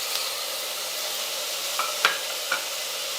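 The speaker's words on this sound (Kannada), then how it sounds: "ಈಗ ಇದು ಉಳ್ಳಾಗಡ್ಡಿ ಫ್ರೈ ಆಗಾಕತ್ತಾವು" Onions and tomato frying in a pan for an Uttara Karnataka poori saagu, a steady close sizzle with a few sharp stirring clinks near the end, no talk.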